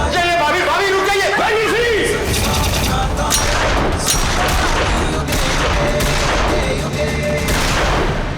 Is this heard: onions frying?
no